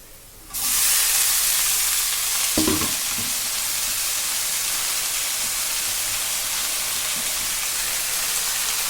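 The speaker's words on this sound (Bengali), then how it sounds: "পেঁয়াজ রসুনটা ভালো করে ভেজে নিয়েছি এবার শাকটা তুলে দেবো" Leafy greens hit hot oil with fried onion, garlic and chili in a pan, bursting into a loud, close, steady sizzle, with a brief spatula clatter early on.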